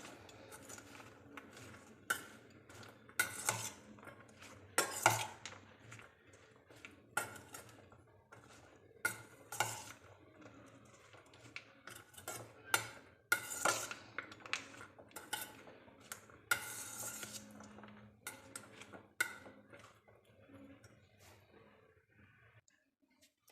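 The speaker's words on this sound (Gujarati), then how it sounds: "હવે બધી વસ્તુને મિક્સ કરી લઈએ" A spoon stirs and tosses a homemade lachha salad of sliced onion with roasted cumin powder, chaat masala and lemon juice in a bowl, giving irregular light metallic clinks and scrapes with quiet gaps, close and fairly soft.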